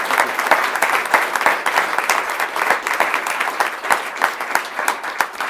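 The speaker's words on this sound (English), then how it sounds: "big round of applause" An audience at a Kansas City 1 Million Cups startup pitch event gives a big round of applause, with dense, steady clapping sustained throughout at close range.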